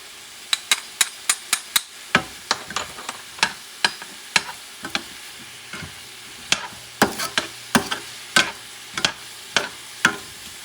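About four cloves of garlic are stirred in a frying pan for cod paella. A spatula scrapes and taps the pan in a run of sharp, irregular strokes over a faint, soft sizzle.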